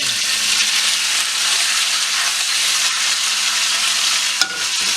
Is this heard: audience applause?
no